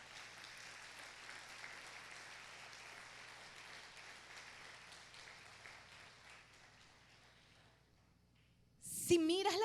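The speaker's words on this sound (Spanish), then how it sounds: "Dale un fuerte aplauso al Señor" Faint, distant applause from a church congregation during a family worship service, steady soft clapping that thins out and stops near the end, followed by a brief louder sound.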